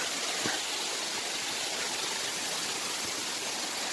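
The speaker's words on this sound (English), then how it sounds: "That's the waterfall." A steady, full rush of falling water from Gundala waterfall roars continuously, broad and close, with no voices over it.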